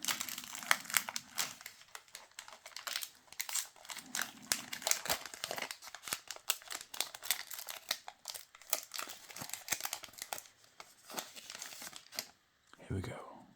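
A foil Pokemon card pack is opened up close, with a long stretch of crinkling, rustling foil and tearing, then a brief crisp pause near the end.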